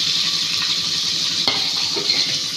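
Large onions sizzling in a hot pan with a steady frying hiss for Rameswaram fish curry, and a spoon scraping and clinking as they are stirred.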